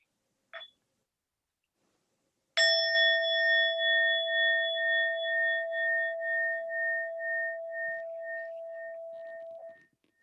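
A meditation bell sounds once after a brief light tap to wake it: a clear, bright strike that rings with a long, slowly pulsing shimmer and fades gradually over about seven seconds in a quiet room.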